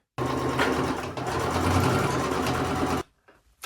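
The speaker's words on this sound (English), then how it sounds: "Now we can do a straight stitch across here" A sewing machine runs a straight stitch across fabric in one continuous burst of rapid mechanical whirring for about three seconds, then stops, leaving a few soft handling sounds.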